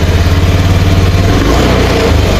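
Honda Beat FI scooter engine, fitted with a new TPS and EOT sensor, running close and loud with a steady low pulsing idle that rises briefly as it revs.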